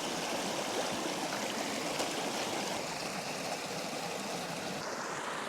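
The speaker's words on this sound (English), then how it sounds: "What a lovely little stream." Water in a stream rushes steadily, a constant close burble and hiss with no pauses.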